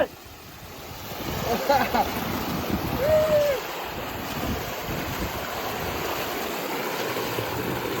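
Steady, loud rush of water splashing from a farm water pump outlet in rural Punjab fills the clip, with a brief distant voice or whistle partway through.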